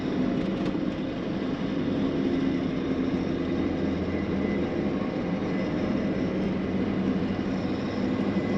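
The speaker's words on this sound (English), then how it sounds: "it feels like the engine's just running strong" A 1984 Ford F250 with a 6.9L diesel engine drones steadily while driving, a continuous low rumble with a constant hum and no talk over it.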